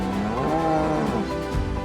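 Cattle at the foot of the Pyrenees low with a long, drawn-out moo that dominates the scene, heard against steady outdoor background noise.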